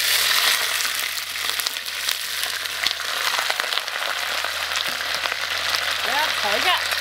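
Turtle meat stir-frying in rapeseed oil in a clay pot sizzles loud and steady throughout, with occasional scrapes and clinks from stirring.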